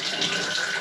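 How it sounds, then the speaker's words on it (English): Water gushes steadily from a tap just turned back on during a urinal unblocking job, a continuous loud broadband rush with air sputtering through the plumbing, close and alone. "There we go, water back on."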